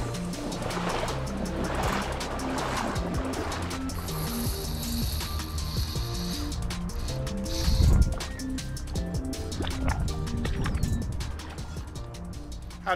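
Someone wades into an urban creek after a hooked channel catfish, and the water splashes and gurgles close by. Footsteps churn through the current in uneven surges, with a louder splash near the middle.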